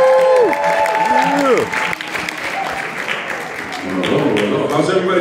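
Crowd claps and cheers for a street band at a school evening performance in Philadelphia, with vocal whoops and a sustained tone over the clapping, then a loud burst near the end.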